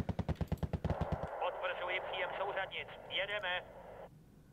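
A gun in Wargame: Red Dragon fires a rapid string of about a dozen evenly spaced loud shots. A stretch of voice-like radio chatter follows.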